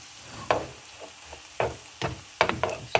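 Shrimp, spinach and eggs cook in a pan, with a steady low sizzle broken by a handful of sharp utensil clacks and scrapes at uneven intervals, close and moderately loud.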